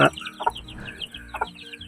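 Chicks and chickens clucking near a drinker of vitamin water on a warm day, a few short close clucks and chirps spaced apart over a quiet farmyard hum.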